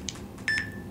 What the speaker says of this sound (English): you have to press this button, wait for a beep